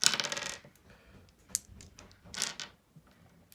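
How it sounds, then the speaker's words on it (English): Star Wars roleplaying dice are rolled and tumble onto a hard surface in several quick bursts of clattering, a loud spill at the start followed by scattered smaller knocks, with no talking. "When rolling each Star Wars dice, it is always best to keep track of which dice you did roll"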